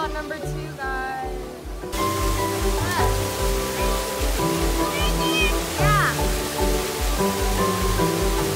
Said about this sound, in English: Waterfall number two, guys.